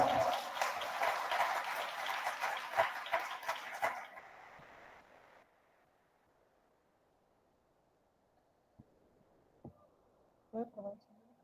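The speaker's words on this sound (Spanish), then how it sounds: "Un aplauso, por favor." Audience applause at a conference lecture, loud dense clapping for about four seconds that fades out into near silence, followed by a few faint noises.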